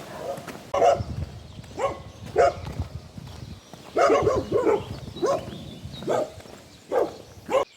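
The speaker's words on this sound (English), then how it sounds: "for every dog which barks at me when I walk" A dog barks repeatedly in short bursts, some quick doubles, fairly close against a rustling outdoor background.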